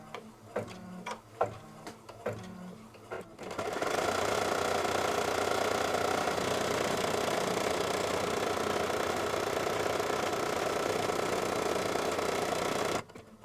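A home embroidery machine stitches a tack-down line on potholder fabric in a hoop, a few separate clicks and then a steady, loud, rapid mechanical whirr with tick-like rhythm that runs for about nine seconds before stopping abruptly.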